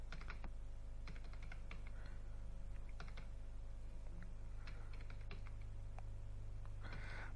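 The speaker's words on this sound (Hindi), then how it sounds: "ये वैल्यू हमें खुद टाइप करनी है तो हम यहाँ पर मैनुअली टाइपिंग कर लेते हैं" Keys clatter on a computer keyboard as figures are typed into an Excel spreadsheet, an irregular run of close, light clicks over a steady low hum, ending in a denser flurry of keystrokes.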